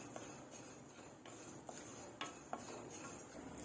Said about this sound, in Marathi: आपण हे मसाले सुके जसे मसाले आपण असे चांगले असे परतून घ्यायचे